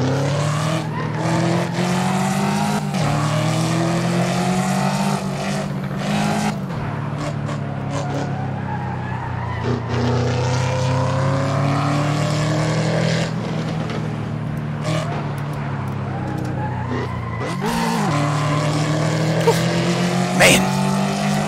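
Race car engine in Assetto Corsa at Laguna Seca, droning steadily and rising in pitch as it accelerates, with shifts and a brief dip and surge near the end; loud and continuous throughout.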